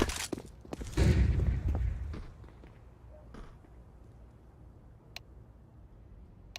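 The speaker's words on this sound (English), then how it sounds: "I'm throwing a flashbang." Flashbang and gunfire in a first-person shooter game: a burst of loud overlapping shots and a bang near the start, then quieter scattered ticks and distant reports with a few sharp isolated clicks.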